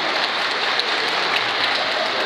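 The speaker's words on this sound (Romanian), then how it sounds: "Să-l aplaudăm, să-l încurajăm." Audience clapping at a Romanian Christmas skit performance, a dense steady wash of many hands applauding throughout, fairly loud and continuous with no voices standing out.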